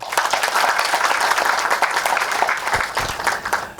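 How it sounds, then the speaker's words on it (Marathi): Audience applause at an indoor knowledge session, steady dense clapping throughout, fairly loud and close, tapering slightly toward the end. "सगळ्यांनी एकदा जोरदार टाळ्या."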